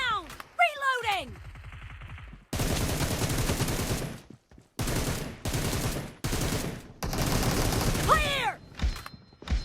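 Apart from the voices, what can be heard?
M762 rifle gunfire in BGMI video game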